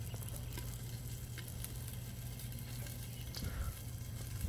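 Garlic bread and pecan-crusted walleye cook on a Blackstone griddle, giving a steady, close sizzle with a low hum underneath and a few scattered scrapes and pops, and no talking.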